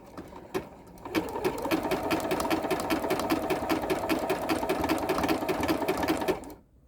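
A sewing machine runs steadily, stitching a quilted hexagon placemat in one continuous rapid whir that lasts about five seconds, close up, before stopping.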